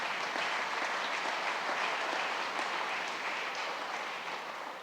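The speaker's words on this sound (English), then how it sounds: "That deserves an applause right there." An audience applauds at a city address in Hamilton with sustained, dense clapping that stays even and moderately loud from start to finish, easing slightly at the very end.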